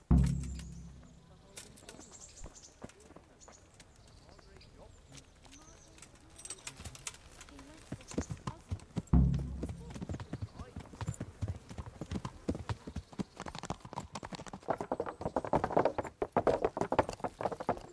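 Steady clip-clop of horse hooves walking on a hard surface in the video game Kingdom Come: Deliverance, continuous and close, with birds faintly cooing and chirping in the background.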